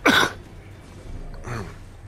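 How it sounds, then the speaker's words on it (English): A single sharp, loud cough or throat-clear bursts out at the start, followed by a quieter, muffled vocal sound and low background murmur. "Cough again, guys."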